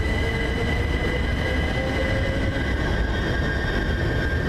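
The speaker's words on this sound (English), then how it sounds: "Now leaving is the 10:10 service, C2C service from here to Shrewsbury Nest." A c2c train pulling out of a station, a steady loud rumble of wheels and carriages with faint high squealing tones running throughout, close by, no voices.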